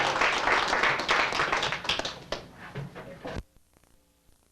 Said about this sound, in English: just give everybody up here a nice round of applause